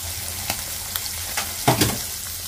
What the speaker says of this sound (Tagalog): Last na natin na tuyo ang prito.